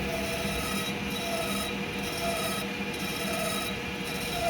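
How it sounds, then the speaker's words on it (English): Metal part chattering against a lathe tool while grooves are cut on a long overhanging workpiece, a steady harsh rasping buzz with a constant drone, close and continuous with no talk. "When cutting the grooves in the other side of the part, it would make this sound."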